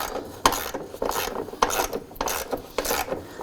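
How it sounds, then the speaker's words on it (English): A 15mm ratchet snugs bolts on a 2007-17 Jeep Wrangler front bumper, giving a close, quiet series of rhythmic clicking pawl strokes, about five or six turns in a few seconds, with no talking. "Now using your 15mm ratchet, you want to go ahead and snug these up."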